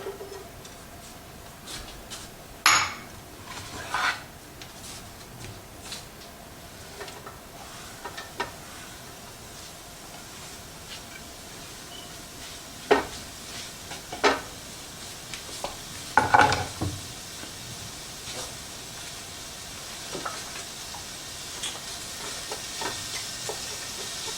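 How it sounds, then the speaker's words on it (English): Peppers and onions fry in a pan with avocado oil, a faint steady sizzle broken by occasional clinks and scrapes of stirring, quiet and close with no talk. "And we'll get these peppers and onions going."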